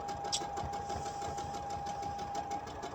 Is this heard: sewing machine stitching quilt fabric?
yes